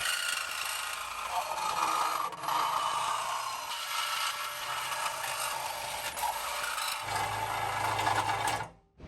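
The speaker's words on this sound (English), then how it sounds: "Okay, Vincent has a Milwaukee cordless reciprocating saw, and he's gonna get cutting." A Milwaukee cordless reciprocating saw cuts through the rear bumper of a Lexus LX470 (100 Series Land Cruiser) during a modular bumper install, giving a loud, continuous buzzing rasp that holds steady for about nine seconds before stopping abruptly.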